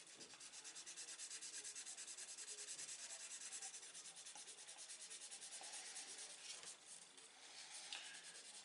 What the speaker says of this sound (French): On vient casser le brillant de la peinture.